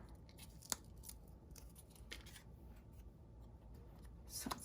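Old craft scissors snip through paper in a series of soft, quick cuts with crisp clicks, close and quiet, with no talking.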